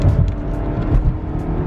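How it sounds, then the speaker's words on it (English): A car's engine rumbles steadily from inside the vehicle, a loud, low droning noise with slight fluctuations over a short stretch and no voices. "So is the noise the car is making."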